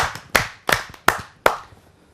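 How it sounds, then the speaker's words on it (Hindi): Four sharp, evenly spaced hand claps ring out close and loud at a Hindi poetry gathering, welcoming a poet to the stage, each with a brief reverberant tail and no talk. "आइए उनका स्वागत करते हैं जोरदार तालियों से।"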